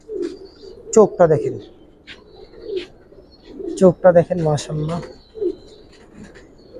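A male pigeon in a loft gives soft, low coos in short bursts, nearly buried under someone talking close by for most of the stretch.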